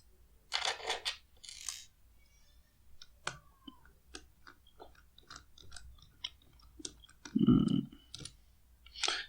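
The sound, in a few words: unscrewing screws to open a CCTV camera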